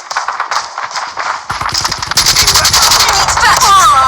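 Call of Duty Mobile gunfire rattles in fast automatic bursts, loud and dense, with game effects around it and a voice over the start.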